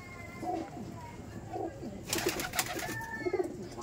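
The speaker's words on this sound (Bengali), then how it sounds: "বাচ্চা মানে খুব বড় হয়নি, বাচ্চা পায়রা।" A young pigeon from a loft coos softly in a few low, rounded phrases, with a louder burst of rustling or flapping in the middle and faint background noise throughout.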